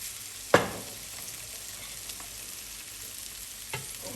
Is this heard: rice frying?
yes